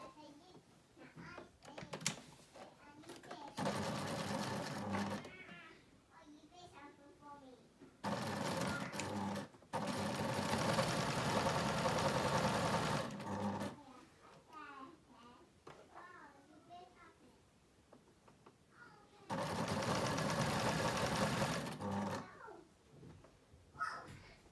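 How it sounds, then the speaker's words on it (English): Home sewing machine stitching garment fabric at a sleeve seam, a steady motor whir in three bursts of several seconds each, separated by quieter gaps where someone talks. "we're going to pin the rest of it and sew it from this side"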